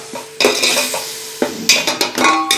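Ginger garlic paste is sautéed over medium flame in a pan for prawn biryani, and a metal spatula clanks and scrapes against the pan in sharp, irregular strokes. The stirring sounds ring out alone over a faint sizzle, with no talk.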